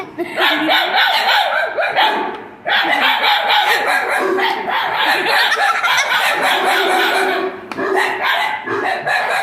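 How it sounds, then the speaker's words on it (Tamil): A street dog barks back at a toy dog that plays recorded bark sounds, producing loud, dense, overlapping barking that runs almost without pause, with only brief dips. "அது உண்மையானதுன்னு நினைச்சு அந்த நாய் குலைச்சு நிற்குது பாருங்க"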